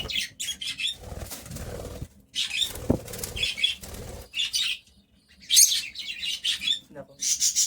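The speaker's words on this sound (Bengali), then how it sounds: "আর এই হচ্ছে মেল পাখিটা" Pet birds in a nest box give bursts of high chirps and flutter their wings in short flurries with quiet gaps between, close by, while someone talks softly at times.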